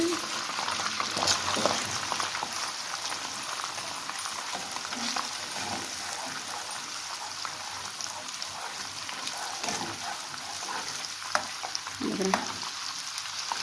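Butter cooks down on high heat into homemade ghee, giving a continuous crackling, rain-like sizzle with occasional bubbling pops and faint stirring scrapes, steady and unbroken throughout with no talking.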